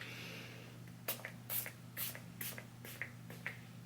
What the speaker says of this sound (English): I'm just going to spray my face